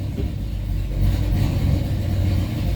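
A turbo Ford Mustang with a Ford C4 transmission and custom converter runs close by during a transmission test, a steady low rumbling idle that swells slightly after the first second.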